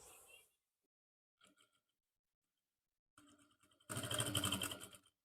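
A sewing machine runs a short, loud burst of stitching along the centre seam of a suit neckline, after a few faint taps and rustles in an otherwise quiet room.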